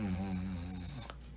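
The wolf from Little Red Riding Hood snoring loudly, one long drawn-out rasping snore up close, the kind of voiced imitation a storyteller would perform.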